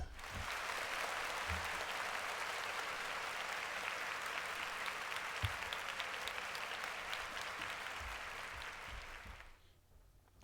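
Steady, dense applause from a crowd runs unbroken for about nine seconds at moderate loudness, then cuts off abruptly into near silence.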